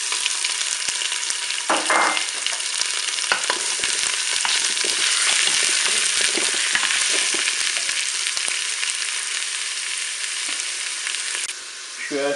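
Onions browning alongside a pork roast in a Cookeo multicooker pot: a loud, dense, steady sizzle with occasional stirring scrapes and knocks, close up and without talk.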